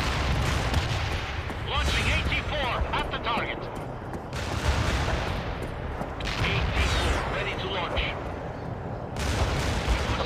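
Gunfire and an AT-4 launch during a Soviet assault on Washington in World in Conflict: a loud, dense run of shots and booms that keeps going for the whole stretch, with voices talking over it.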